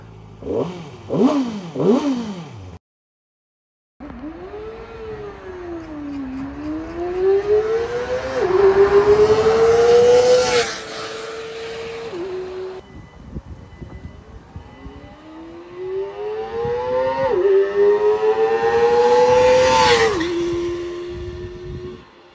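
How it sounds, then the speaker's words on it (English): A Kove 450 RR motorcycle engine sputters into life with a few quick blips, then after a brief silence settles into idle and is revved up twice in long rising sweeps, loud and close. "So let's start the bike. Ooh, feels nice. Let's rev it up."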